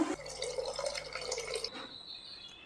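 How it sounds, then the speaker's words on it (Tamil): Water pours into a pot of rice for kuska biryani in a close, splashing rush lasting about a second and a half, then cuts off, leaving quiet. "இப்போ தண்ணி ஆட் பண்ணிட்டு இதை வந்து நல்லா கலந்து விட்டாச்சு"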